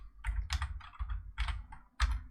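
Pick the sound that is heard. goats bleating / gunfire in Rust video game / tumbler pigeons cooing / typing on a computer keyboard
typing on a computer keyboard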